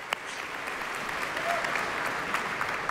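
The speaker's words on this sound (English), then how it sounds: "Applause." A large audience applauds at the Samsung Unpacked 2014 launch event, producing an even, steady wash of clapping heard from a distance at moderate volume throughout.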